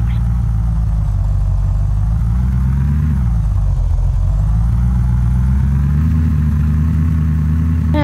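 A police car engine in a zombie video game drones at low pitch, rising and falling as the car drives, loud and continuous, with a voice talking over it at times.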